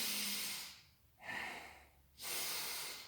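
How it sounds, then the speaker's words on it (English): Restricted breathing drawn in through the nose while gripping during a hand-extensor exercise at home, heard as two close, hissing snort-like nasal breaths with quiet pauses between, with no talk. "So you breathe in through the nose, and it's almost like as you put the tension here, you also, using your nose, you're kind of restricting the breathing as well."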